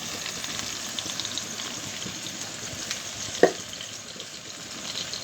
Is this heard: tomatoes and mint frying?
yes